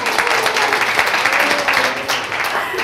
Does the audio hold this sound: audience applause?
yes